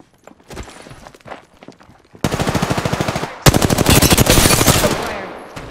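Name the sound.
gunfire in the video game Apex Legends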